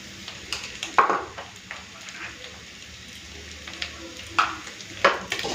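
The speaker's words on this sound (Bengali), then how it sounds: "গ্যাস কমিয়ে কমিয়ে মোলা মাছটা ভালো করে ভেজে নিয়েছি" Small whole mola fish fry in a pan over a low gas flame, giving a steady close sizzle broken by sharp crackling pops and occasional stirring scrapes.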